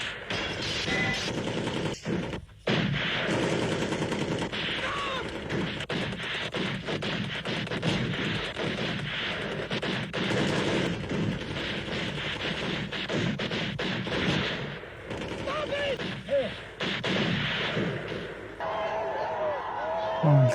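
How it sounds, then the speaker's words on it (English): Battle scene from the 1962 film Lawrence of Arabia: loud, dense gunfire and artillery blasts crack and boom in rapid irregular bursts for about twenty seconds, with a few brief lulls and voices now and then under the barrage. "Oh, the guns."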